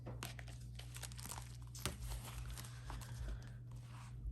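Paper cash and a cash-stuffing envelope being handled close by, with soft crinkling, rustling and tapping in an irregular run over a low steady hum.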